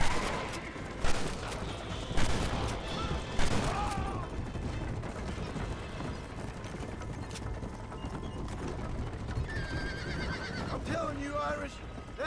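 Gunfire crackles in a Red Dead Redemption shootout, bursts of shots at the start mixed with horse whinnies and hooves, with voices talking over the action throughout.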